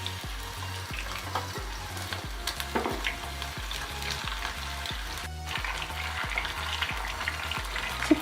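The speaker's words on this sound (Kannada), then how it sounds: "ಚಿಕನ್ ಎಲ್ಲ ನಾವು ಈ ರೀತಿ ಸ್ವಲ್ಪ ಫ್ರೈ ಮಾಡಿಕೊಂಡು ತೆಗೆದಿಟ್ಕೊಳ್ಳೋಣ" Chicken pieces seasoned with salt, chilli powder and turmeric fry in a pan, a steady sizzle running throughout with a regular stirring or scraping pulse underneath, close and fairly loud with no talking.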